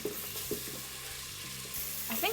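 Chopped onions hitting hot butter with bacon in a pan, giving a steady sizzle with light stirring and clinking throughout.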